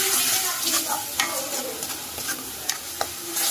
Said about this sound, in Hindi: मसालों को अच्छी तरह से भी पकने देंगे इसके साथ में